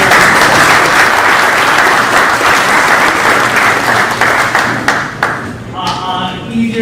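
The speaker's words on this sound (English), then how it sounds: "If you can give yourselves a round of applause for being here" An audience at a Donuts with Dad school morning at Hamilton School gives a loud, close round of applause. It holds steady, then thins out near the end as a voice begins speaking.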